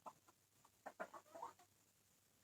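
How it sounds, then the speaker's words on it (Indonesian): KUB laying hens actively producing eggs, giving a few soft, scattered clucks at a distance, with a louder cluck at the very end and quiet gaps between. "indukan ayam KUB yang sudah aktif bertelur."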